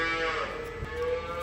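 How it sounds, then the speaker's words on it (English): Hungry calves bellow on a farm at breakfast time, a sustained moo with harmonics holding steady throughout, fairly close and continuous, with no talk over it. "Those are calves in the background, by the way."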